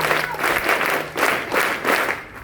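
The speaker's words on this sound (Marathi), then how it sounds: "scout clap Ghosh" Students at a school perform a scout clap cheer, bursts of loud group clapping in a rhythmic pattern of about five pulses, with shouted voices mixed in.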